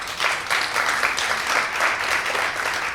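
Brief applause ripples through an investor-day audience in Chicago, a short burst of clapping in uneven surges.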